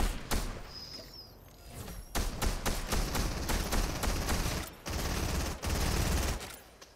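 Rapid bursts of automatic gunfire in Fortnite, several loud rattling volleys of varying length separated by short pauses, with a faint chirp near the start and no talk over it.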